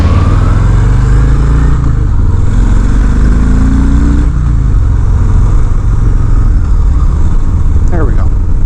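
A 2020 Harley-Davidson Fat Boy being ridden gives off a deep, steady engine rumble that swells and shifts in pitch partway through, with constant wind noise over it.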